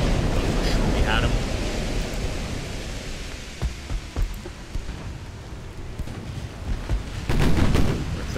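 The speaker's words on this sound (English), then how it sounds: "Our 13-inch cannons are not doing great." Heavy 13-inch naval guns firing in the warship game Ultimate Admiral: Dreadnoughts, heard as several distant booms and thuds scattered through a dense, continuous roar of battle noise, with no speech over them.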